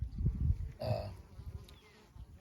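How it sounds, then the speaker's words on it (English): A faint honeybee buzz drifts in briefly near the start as bees return to a hive with pollen, with low rumbling outdoor noise around it; the buzzing is soft and passing. "bees coming back with pollen"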